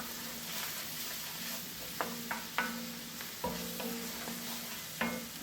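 Grated ginger and salt stirred in a pan for Indian potato and pea tikki, with a steady soft sizzle broken by a handful of sharp spoon scrapes and clinks against the metal, close and moderately quiet, no talking.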